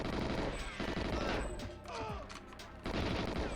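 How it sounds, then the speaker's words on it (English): Rapid bursts of gunfire ring out in GoldenEye 007, dense overlapping shots and automatic fire that briefly drop away in the middle before resuming loudly. "these guys will come when they hear the gunshots"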